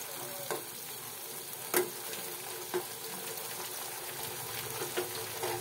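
Food mixed with mustard paste in a pan gives a quiet, steady sizzle with a few soft scraping knocks from stirring, and no voices.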